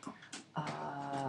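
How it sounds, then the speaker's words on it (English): A dog groans indoors, a few soft breathy huffs followed by a longer low, tonal moan that lingers; faint and close, with no talking. "That's my dog groaning."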